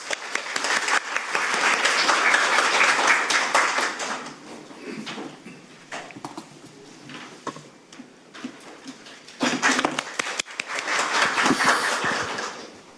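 An audience claps warmly at an urgent forum on patient safety in pre-hospital emergency care, two bursts of applause swelling and fading, with scattered claps and quiet room noise between them.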